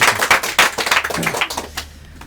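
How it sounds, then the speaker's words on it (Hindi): Audience applause for a contestant on the hot seat of a quiz show, a short burst of loud clapping that thins out and fades within about two seconds. "एक बार जोरदार तालियां हो जाए।"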